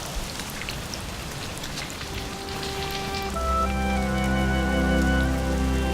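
Steady rain patters and hisses over a running stream in Dove Valley, growing fuller and louder partway through, with a deep continuous rush underneath.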